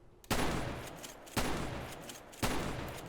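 Three loud shotgun blasts from the SAMP video game ring out about a second apart, each a sharp boom that trails off into a long decaying roar before the next.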